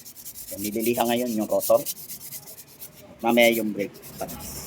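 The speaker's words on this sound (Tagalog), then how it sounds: "So, nililiha ngayon yung rotor." Sandpaper rubbed in repeated strokes against a car brake rotor on a Suzuki Alto 800, a raspy scraping close by with someone talking over it.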